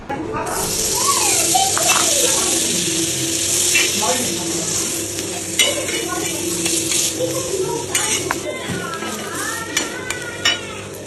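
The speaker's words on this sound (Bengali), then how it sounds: "এই যে বাটারটা দিলাম, দেখো সাউন্ডটা তো আমার খুব ভালো লাগে" A bread slice fries in melted butter in a pan with a steady crackling sizzle, broken by utensil scrapes and stirring. A person talks throughout.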